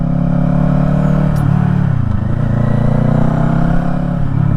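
A Kawasaki Eliminator cruiser motorcycle idles and revs close by, its exhaust a steady loud low drone with a brief dip and swell in pitch partway through.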